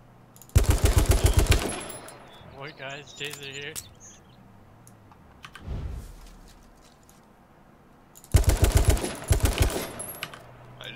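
Rapid automatic gunfire in a battle royale video game comes in two loud sustained bursts, with a player talking between them.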